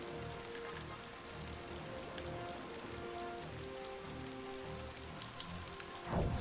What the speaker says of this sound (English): Why is it raining everywhere?